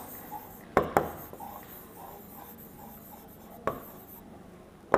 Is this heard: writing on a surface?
yes